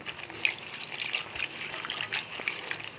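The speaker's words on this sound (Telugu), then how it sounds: "ఇలా ఒక గిన్నెలో నీళ్ళు వేసుకొని బాగా దీన్ని కలపాలి" Water sloshing and trickling in a bowl as produce is swished around by hand, with small splashes and drips at close range.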